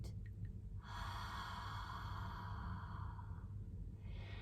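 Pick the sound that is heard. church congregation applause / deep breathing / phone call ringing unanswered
deep breathing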